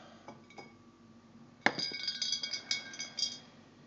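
A magnetic stir bar drops into a glass jug for home brewing: a sharp clink, then several lighter glassy rattles as it settles, close and fairly quiet.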